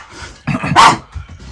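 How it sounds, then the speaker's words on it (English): A small Yorkie barks and growls at a big Labrador, giving a few sharp, close barks with a loud peak midway and quieter gruff sounds around it. "I had to put a brief cut in there because of a bit of barking, because Gizmo, little Yorkie,"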